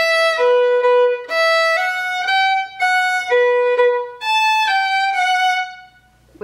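Solo fiddle plays a tune in a minor key, a clear, close melodic line of bowed notes with a steady lilting rhythm, closing on the tag ending of the A part, with no talk.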